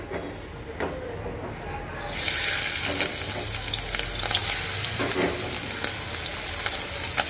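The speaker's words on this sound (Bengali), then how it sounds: "মাছটা ভাজার জন্য কড়াইতে তেল গরম করতে বসিয়ে দিয়েছে। এখন আমি মাছগুলো দিয়ে দেব।" Shing fish (stinging catfish) hit hot oil in a wok and burst into a loud, steady sizzle and crackle about two seconds in, after a quieter stretch of light kitchen noise.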